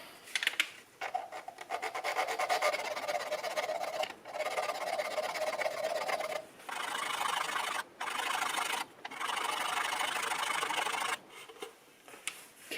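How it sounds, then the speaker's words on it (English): Slow, deliberate file strokes rasp against broken gauge cover standoffs on an RZ350 motorcycle, close and fairly loud, in long passes separated by brief pauses, with no voices. "Now I'll do some slow filing"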